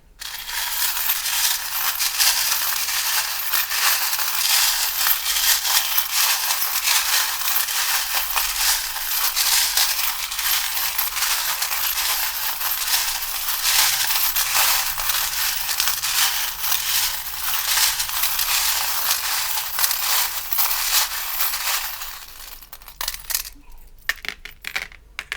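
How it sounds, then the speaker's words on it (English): Charms and dice are shaken and cast for a reading, making a continuous dense rattling and clattering that runs loud for over twenty seconds before breaking into a few sparse clicks. "We'll now do your charms and dice as well for your extra messages"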